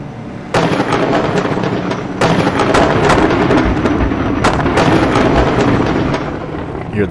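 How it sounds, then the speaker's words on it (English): Race cars backfiring on track at Laguna Seca: a loud, continuous engine roar broken by sharp, booming bangs, with three big cracks standing out over the din. "Hear those cars that backfiring."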